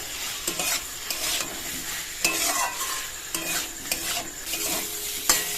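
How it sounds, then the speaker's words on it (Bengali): Potatoes sizzle in a pan as a spatula scrapes and stirs repeatedly, with rhythmic scraping bursts over a continuous frying hiss, close up. "আলুটা দিয়ে 1-2 মিনিট কষিয়ে নেব"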